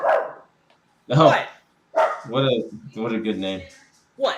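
A dog barks and yelps in short bursts indoors, mixed in with close conversation between people.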